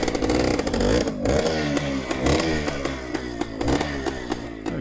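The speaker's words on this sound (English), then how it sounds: "we love that ring-a-ting-ting of a lovely two-stroke" A close 1974 Suzuki TS250 two-stroke motorcycle revs repeatedly, its ringing engine note rising and falling in quick surges.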